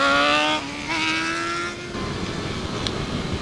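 A Yamaha FZ8 motorcycle engine revs hard and climbs in pitch during a wheelie, loud and close, then drops off into rushing wind and road noise.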